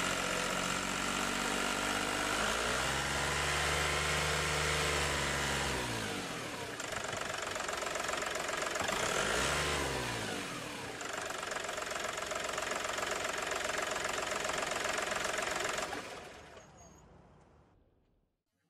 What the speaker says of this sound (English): Now start the engine and follow the measurement instructions